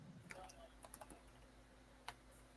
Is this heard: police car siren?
no